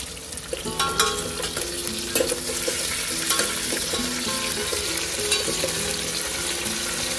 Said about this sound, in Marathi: नंतर शेंगदाणे टाकत आहे, मोहरी टाकत आहे, मोहरी विसरले होते, कढीपत्ता टाकत आहे